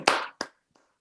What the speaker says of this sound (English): Please unmute to clap.